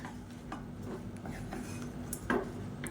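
Cooked rice stirred into lemon rice masala in a pan, with soft scraping and light clinks of a spoon against the vessel, faint and steady with a slightly louder knock near the end.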